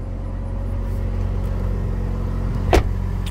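A used, high-mileage car engine idles quietly with a low, steady rumble and faint hum, broken near the end by one brief sharp click or knock.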